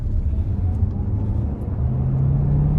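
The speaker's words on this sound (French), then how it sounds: "Alors on entend le moteur essence." The petrol engine of a Kia Sportage GT Line T-GDI hybrid rated at 230 hp pulls hard under acceleration, a continuous low rumble with a whirring note that climbs steadily toward the end, heard from inside the vehicle.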